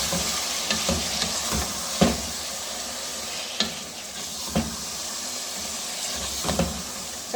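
Spices and liver fry in a pan under a constant hissing sizzle. Sharp scraping strokes of a spoon mix them every second or so.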